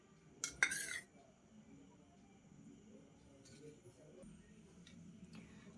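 A metal spoon clinks twice against a pot while ghee goes into chicken dum biryani, a pair of sharp taps early on, then faint scraping and light ticks under quiet talk.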